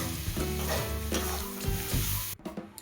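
Red spinach stir-fries in a pan with a constant close sizzle, broken by repeated scraping stirs of a spatula, and no voices.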